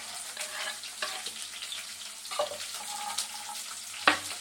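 Green chillies and chopped onion fry in hot oil for a Malayalam fish curry, making a soft, close crackle with sharper pops and spatters as pieces land or are stirred.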